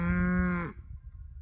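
A single cow gives one loud, close moo on a farm, a rich drawn-out call that cuts off abruptly, leaving faint background noise.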